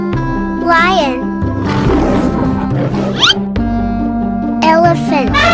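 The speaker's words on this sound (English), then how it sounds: "Lion." A cartoon lion roars in a children's animal-and-paint cartoon, a couple of loud, growling roars mixed with music and a child-like voice, with bursts of sound throughout.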